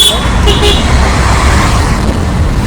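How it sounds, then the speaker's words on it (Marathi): A car drives along an evening road near Mahabaleshwar, its steady engine and tyre rumble filling the whole stretch, with a brief horn-like tone early on. "गाडी चालू"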